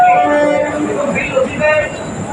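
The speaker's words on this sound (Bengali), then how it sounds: "এই যে ট্রেনটা ছেড়ে চলে যাচ্ছে," A Bangaon local train pulls away from a station platform, its loud rolling rumble and screeching wheels close by, with tonal squeals rising over the clatter.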